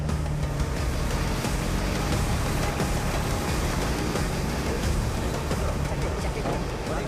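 Boat engine churning steadily as the boat swings around on the water, a loud continuous rumble mixed with splashing wash and wind noise, with no clear talking.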